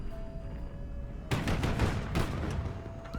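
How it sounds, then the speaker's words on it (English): Bombs and gunfire from an attack in the Highfleet naval strategy game crash out as two sharp, loud explosive bursts with a rumbling tail, following a quiet stretch. "Let's see if we can hit it with a bomb."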